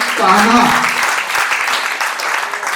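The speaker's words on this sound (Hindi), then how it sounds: "एक बार कान्हा उपवन के लिए जोरदार तालियां" Crowd applause, a dense steady patter of clapping, with a voice speaking over it at the start.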